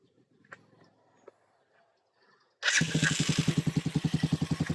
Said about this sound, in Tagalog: Try natin pandarin yung ating motor sa magitan push button starter.